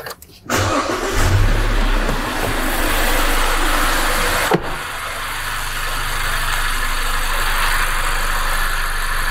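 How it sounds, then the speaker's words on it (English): A car engine, undergoing a mechanical health check, cranks and fires up, then settles into a steady, loud idle that hums on for several seconds, with one sharp click partway through. "so we'll start the engine."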